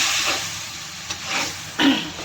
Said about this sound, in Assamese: এয়া অকণমান শুকান ভাজিলোঁ মছলাখিনি